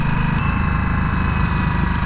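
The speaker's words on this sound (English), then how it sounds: "The undertone of that exhaust sounds like it's going to be quite good actually." A Harley-Davidson Nightster motorcycle engine idles steadily with a deep, throbbing exhaust note, close and continuous with no talking.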